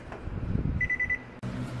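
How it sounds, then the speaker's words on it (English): An oven's electronic timer beeps in a quick run of short, high tones, fairly close by over low kitchen background noise, with no one speaking. "There's a beeping sound. It's gonna turn off the oven automatically."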